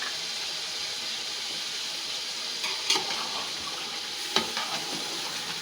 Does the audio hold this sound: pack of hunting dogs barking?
no